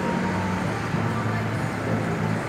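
Car traffic at a crossing on Avenida Paulista in São Paulo, a steady wash of road noise and engine rumble from passing vehicles, fairly close and continuous.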